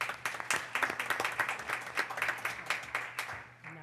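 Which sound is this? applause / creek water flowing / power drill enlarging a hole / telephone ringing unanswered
applause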